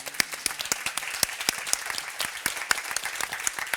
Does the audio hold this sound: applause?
yes